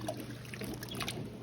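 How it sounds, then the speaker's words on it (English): Green beans get swished around in cold water in a sink full of fresh garden beans, producing a soft continuous sloshing and trickling, fairly faint and steady with no talking. "I just have them in some cold water here in the sink, and I'm just swishing them around to give them a good wash."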